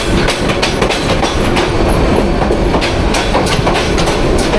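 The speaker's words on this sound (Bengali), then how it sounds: "এত রাতে আবার কি ট্রেন যায়?" A train passing close by at night on a Bangladeshi line, loud and continuous, with rhythmic clickety-clack wheel beats over a heavy rolling roar.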